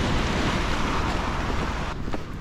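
Sea waves wash against the coast at Itoshima in Fukuoka, a steady broadband roar of surf mixed with wind buffeting the microphone, loud and continuous throughout before easing slightly at the very end.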